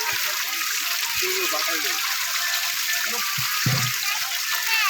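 Water gushes and splashes continuously over fish in a pond, loud and close, while voices talk over it.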